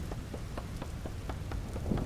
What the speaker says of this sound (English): You know you've got good rain sounds if that's the case.